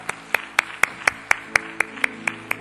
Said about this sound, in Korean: 우리 한번 큰 박수로 한번 축복해 주시기 바랍니다.